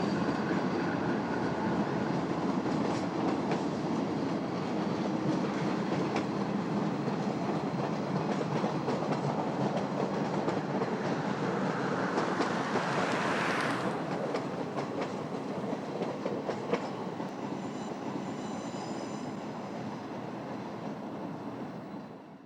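Union Pacific work train with Norfolk Southern locomotives on the Moffat Line in Colorado: a loud, steady rumble of passing railcars with clickety-clack of wheels and a brief rising whine midway, fading slightly at the end.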